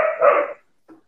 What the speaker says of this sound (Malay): Dekat rumah presiden pun ada anjing ke?